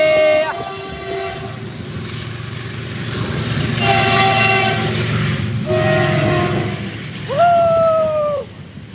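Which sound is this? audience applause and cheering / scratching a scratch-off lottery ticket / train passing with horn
train passing with horn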